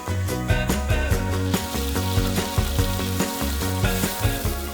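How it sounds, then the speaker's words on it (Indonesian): Fern shoots stir-fried with onions in a pan, giving a loud, dense, continuous sizzle with rhythmic pulses as the pan is worked, heard alone without talking. "Kemudian ditumis bersama bawang yang sudah mulai tercium wangi."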